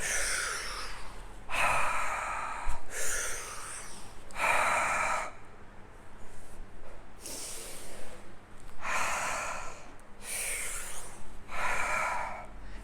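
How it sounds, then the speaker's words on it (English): Exaggerated Qigong breathing during a sabre form, loud rhythmic inhales and exhales alternating in distinct bursts of about a second each, close and alone without talk. "If you're doing this as a genuine Qigong, you shouldn't be able to hear the breathing."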